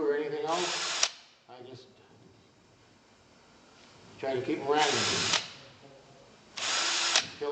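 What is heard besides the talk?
power drill drilling holes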